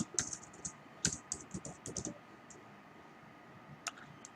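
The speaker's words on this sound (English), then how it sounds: "So just type it select." A SQL select query is typed on a computer keyboard, producing quiet, close key clicks in quick clusters that thin out into a few scattered taps over a low room hiss.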